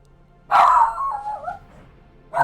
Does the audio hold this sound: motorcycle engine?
no